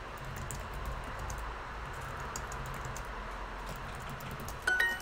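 Soft, steady typing on a computer keyboard, faint and continuous with a brief louder burst of keystrokes near the end, no voices.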